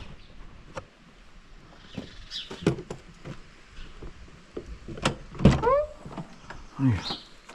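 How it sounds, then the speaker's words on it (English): Car doors being opened and shut one after another on a car that won't lock, a handful of separate thumps and clunks spread across the stretch with faint talk and outdoor background in between. "Just opening up all the doors and shutting them again and see if it'll lock."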